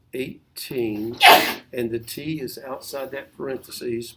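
A single sharp sneeze from someone in a classroom, bursting out in the middle of a teacher's steady spoken explanation of a math problem.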